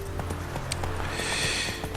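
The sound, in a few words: horse hooves running in The Witcher 3 video game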